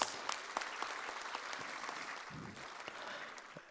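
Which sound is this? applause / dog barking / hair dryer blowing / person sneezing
applause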